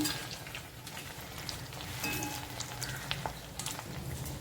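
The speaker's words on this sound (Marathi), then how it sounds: "दोन्ही साईडने छान फ्राय झालेत आपले" Potato french fries frying in hot oil, a soft, close crackle of fine bubbling pops, fairly faint and continuous with scattered sharper spits.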